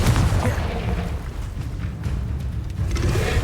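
A Confringo fire spell from a Harry Potter video game bursts in a deep, rumbling boom, followed by a noisy low roar and a few sharp crackles.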